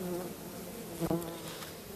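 A dense, continuous buzz of many honeybees flying close by at a hive entrance, with one louder bee passing near midway.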